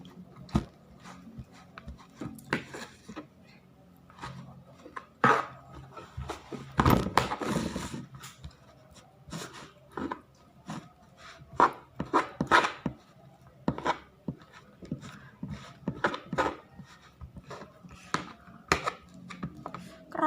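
Mashing a cooled, hardened, rubbery pongasi mixture from Southeast Sulawesi: irregular knocks, thuds and rubbing scrapes in uneven bursts, close by, with a brief voice partway through.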